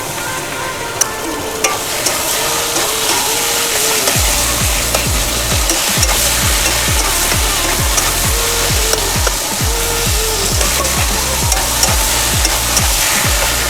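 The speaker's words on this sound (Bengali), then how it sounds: "বন্ধুরা, আমি মশলাটা দিয়ে ভালো মতন কষিয়ে নিচ্ছি।" Spices and tomato fry in a pan, sizzling steadily while a utensil scrapes and stirs in repeated, rhythmic strokes, close up and loud.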